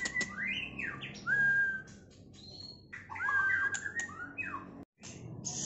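A male trotol bird (Indonesian white-eye) in a bird shop gives clear, close whistled call phrases with rising and falling slurred notes and short chirps, repeated over a faint background murmur.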